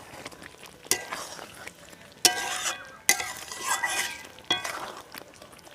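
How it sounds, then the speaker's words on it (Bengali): Papaya paneer curry with ghee and chopped coriander being stirred in a pan, a soft sizzle under several sharp spoon scrapes and clinks against the metal, close by. "আর দিয়ে দেবো অল্প একটু ঘি আর ধনেপাতা কুচি দিয়ে সব কিছু মিশিয়ে ভালোভাবে নেবো,"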